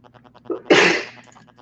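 A single loud sneeze bursts out after a short sharp inhale during a relaxed group hangout, with faint voices murmuring before and after it.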